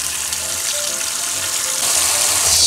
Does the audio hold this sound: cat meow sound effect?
no